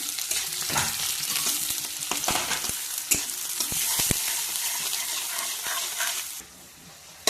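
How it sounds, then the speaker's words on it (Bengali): Onion sizzles and crackles in hot oil for a curry, a dense close hiss with stirring clinks and scrapes throughout, dropping suddenly quieter near the end. "এবার এই যে পেঁয়াজটা দিয়ে দিচ্ছি তেলের মধ্যে"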